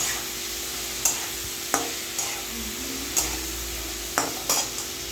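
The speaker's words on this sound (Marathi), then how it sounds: "एवढ्या तेलातच छान असं फ्राय होतं" Masala frying in a little oil in a pan for a paneer cashew curry, a steady low sizzle broken by repeated sharp clinks and scrapes of a spatula on the pan, close and without talk.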